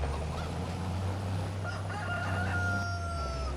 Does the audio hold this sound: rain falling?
no